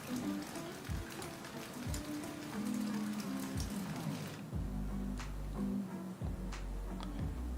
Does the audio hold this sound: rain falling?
yes